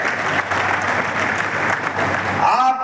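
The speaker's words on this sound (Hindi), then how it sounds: "जोरदार ताली बजा के" A large crowd claps loudly and continuously at a political rally in Panna with the state chief minister. The thick, steady applause lasts nearly three seconds before a voice begins over the amplified sound system.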